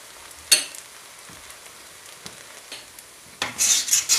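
Kaiserschmarrn batter is stirred and broken up as it fries in a pan, with a few sharp scraping strokes and a quiet sizzle, ending in louder rasping stirs.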